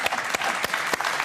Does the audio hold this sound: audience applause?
yes